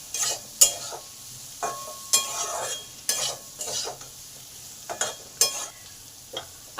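Chopped onions fry in a Bengali prawn poppy-seed curry under a soft, low sizzle, while a utensil scrapes and stirs the pan in repeated short strokes, close by, with no speech.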